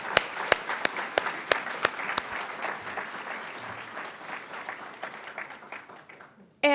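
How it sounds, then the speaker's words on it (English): An audience applauds musicians at a 2017 literacy program graduation, with a few sharp nearby claps over a broad wash of clapping that thins toward the end. "Round of applause for these fine musicians."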